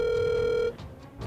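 A phone's ringback tone sounds on an outgoing call as one steady electronic tone for about half a second, then cuts to quiet room noise.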